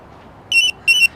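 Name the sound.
Pebblebee tracker beeping twice when woken up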